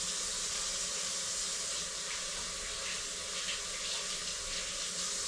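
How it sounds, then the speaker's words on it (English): Running tap water for washing hands in a kitchen, a steady hissing splash that continues evenly throughout at moderate level, with no voices. "I'm going to wash my hands."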